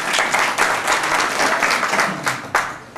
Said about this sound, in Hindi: इनके लिए जोरदार तालियां बजाएं आप।